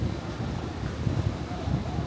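Strong wind buffets the microphone in a steady, gusty roar, with the low rush of open air on the deck of the cruise ship Wonder of the Seas at sea.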